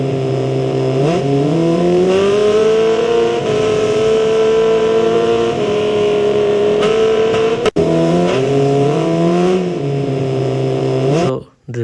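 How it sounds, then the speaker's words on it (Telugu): AI-generated car drifting, its engine revving in a sustained, wavering loud howl that dips and climbs, breaks briefly near the end, then drops away abruptly. "Car is drifting."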